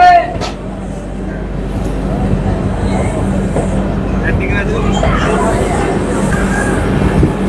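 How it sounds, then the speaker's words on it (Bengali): Sairang–Kolkata express train pulling out of Murshidabad Junction toward Berhampore, heard from on board as a steady rolling rumble with faint clatter beneath someone speaking. "মুর্শিদাবাদ জংশনে আমাদের এই ট্রেনটি 3 মিনিট দাঁড়িয়ে অবশেষে বহরমপুরের উদ্দেশ্যে আমাদের এই ট্রেন বেরিয়ে যাচ্ছে।"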